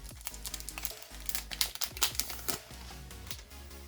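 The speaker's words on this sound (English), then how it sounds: "Now let's go on to Zoro's pack here. Open" One Piece card game starter deck pack being opened close up, crisp crinkling and tearing of the wrapper in quick irregular bursts, with no talking.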